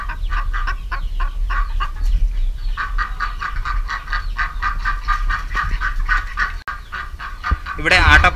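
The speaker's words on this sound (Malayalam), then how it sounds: "ഇത് സിൽവർ പോളിഷ് അലങ്കാര കോഴിയാണ്." Clucking from a silver Polish ornamental chicken at a farm sale area, with other fowl nearby; repeated, fairly loud clucks and calls in a busy poultry chorus, with a sharper squawk at the end.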